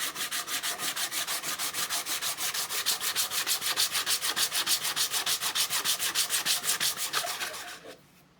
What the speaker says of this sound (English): I'm just going through with the hand sanding